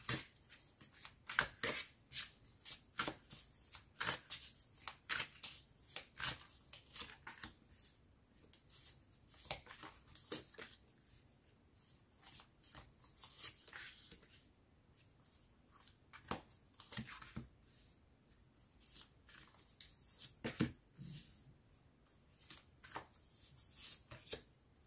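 Tarot cards being shuffled for a reading, a steady run of close, crisp riffling bursts and soft slaps repeating throughout with no talk.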